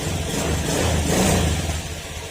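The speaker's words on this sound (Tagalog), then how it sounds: "ito na mga sir maandar na yung makina" A Honda Beat FI scooter engine runs steadily and close by with a continuous low hum and a broad hiss over it, with no pauses and no voices.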